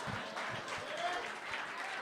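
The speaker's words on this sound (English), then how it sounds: "Nice round of applause." A studio audience applauds a contestant on a stage show, steady dense clapping filling the whole short stretch at moderate volume with a faint voice underneath.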